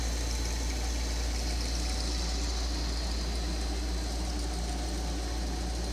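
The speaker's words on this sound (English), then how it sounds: "If I want to draw water out of the bag, I'll do M-1, and this will draw water out of bag number 4." An OPEnSampler water sampler draws water out of a sample bag, giving a steady, continuous trickling flow over a constant low pump hum, close and unbroken throughout with no talking.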